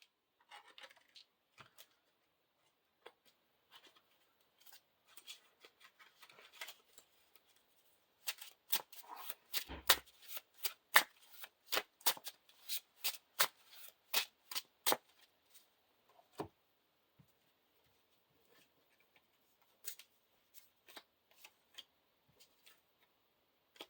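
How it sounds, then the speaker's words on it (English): A deck of encounter cards for a Lord of the Rings card game is shuffled by hand, a quiet series of crisp riffling clicks and snaps that bunch into a dense burst midway, then taper to scattered taps. "shuffle the encounter deck"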